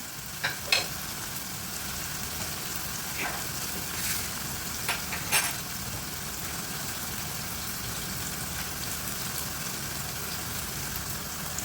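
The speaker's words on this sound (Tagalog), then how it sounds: "Hayaan muna natin na maluto-luto yung sa ilalim bago natin baliktarin." Chicken fries in a pan for Bicol Express, giving a soft, steady sizzle with a few sharp pops and crackles scattered through the first half.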